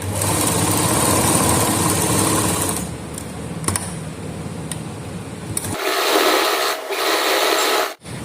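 A sewing machine stitches a salwar in a fast, even whirring run, then pauses briefly and starts again, close and loud with no talk.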